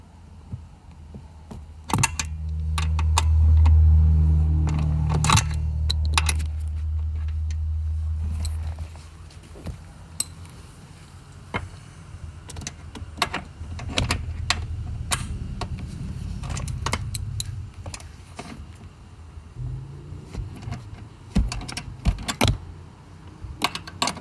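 Socket wrench loosening a bolt on a 2005–2010 Jeep Commander second-row seat tumble actuator: irregular sharp metallic ratchet clicks and clanks, close and crisp, with a low rumbling hum in the early seconds.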